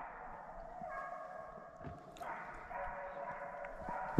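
Hunting dogs chasing deer in North Carolina woods bay and bark in the distance, a faint, uneven run of cries, with people talking quietly over it.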